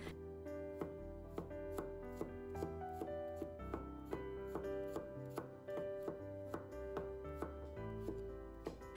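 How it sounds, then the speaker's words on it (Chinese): Garlic cloves minced with a knife on a cutting board: steady rapid chopping strikes, evenly spaced and close, continuing alone throughout. "然后给它剁成蒜末"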